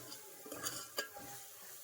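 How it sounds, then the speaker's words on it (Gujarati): Beetroot halwa cooking slowly in ghee over a low flame, stirred with a spoon, making faint scraping and a couple of light metallic clinks over a soft sizzle. "ઘીમાં જ પકવવાનું છે, બહુ મસ્ત રીતના હલાવ્યા રાખવાનું"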